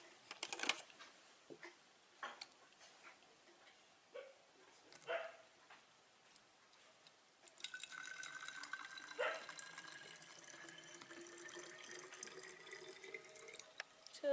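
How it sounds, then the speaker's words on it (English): Water poured into a homemade salt water generator already holding about one and a half spoons of salt, a steady splashing trickle that starts partway through and runs on, close by, after some scattered clicks and handling knocks. "And now let us add water."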